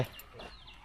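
A chicken clucks briefly in a rural garden plot, a single short call heard at moderate distance over quiet outdoor background.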